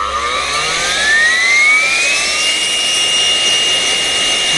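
A GTM cordless battery tool is switched on at its third power setting, its motor spinning up with a rising, loud high-pitched whine that levels off into a steady, close drone.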